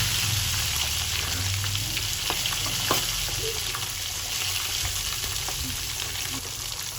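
Fish coated in masala frying in hot oil, with a steady, continuous sizzle, close and even throughout and with no talking.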